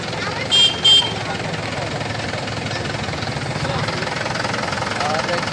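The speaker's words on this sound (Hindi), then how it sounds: "यहाँ पर है ट्रैक्टर घुस गया है, देखिए यहाँ पर कीचड़ में घुस गया है।" A tractor engine runs steadily while the tractor sits stuck in mud, a continuous low rumble throughout, with two brief louder bursts near the start.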